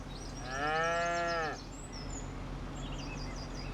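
A single cow moos in a farming video game, a clear, drawn-out bellow of about a second, followed by faint bird-like chirps over a soft background hum.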